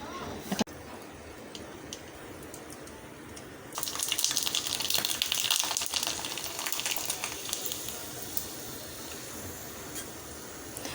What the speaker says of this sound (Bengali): আমি এরকম করে সবগুলোকে ভেজে নেব